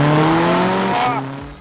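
Mercedes-AMG A-Class, lightly remapped with a turbo, accelerating hard in second gear: a close, loud engine note climbing steadily in pitch for about a second, then a brief tyre squeal and drop-off as speech overlaps.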